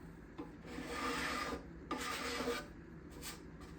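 A scraper rasps across the back side of a set of bindings in two long, loud strokes, then a couple of shorter scrapes follow, close and dry with no talking.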